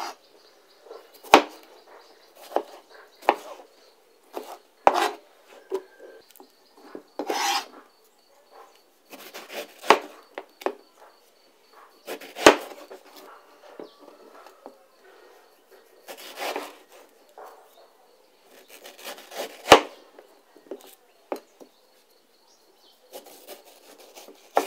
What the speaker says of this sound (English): I'm just going to roughly chop them and put them in the blender.